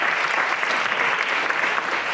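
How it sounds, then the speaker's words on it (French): Audience applause at a closing session, a full, even wash of clapping from a sizeable crowd, continuous and fairly loud. "Je vais vous applaudir."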